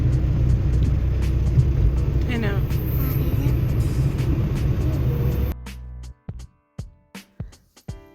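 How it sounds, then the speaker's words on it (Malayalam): Vehicles passing on a road at night make a loud, continuous rumble of traffic with some voices mixed in. After about five seconds it cuts to a few sparse, sharp knocks. "അത്യാവശ്യം വണ്ടികളും വരുന്നുണ്ട് കേട്ടോ"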